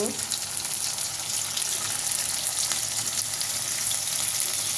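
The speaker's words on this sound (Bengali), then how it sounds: "শুটকিটা পেঁয়াজের ভিতরে ভেজে নিব।" Onions and dried fish fry in a pan, giving a constant close sizzle with fine crackling and no letup, while a faint voice can be heard in the background.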